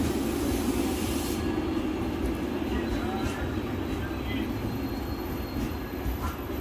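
A Jabalpur Special Express passenger train arriving at Ratnagiri station on Indian Railways, a steady, loud rumble of rolling wagons and wheels on track throughout, with brief faint squeals over the drone.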